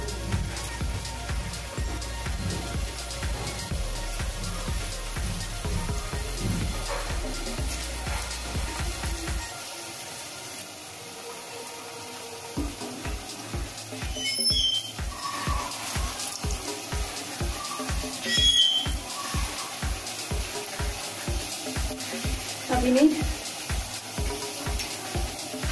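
Moong dal balls frying in a pan over slow to medium flame with a soft, continuous bubbling sizzle under clattering and scraping, interrupted by a brief quieter pause before the frying resumes.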